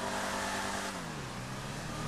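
An American supercar engine in GTA V Online revs hard from the cabin, a loud continuous roar whose pitch drops as the throttle eases, with no talking.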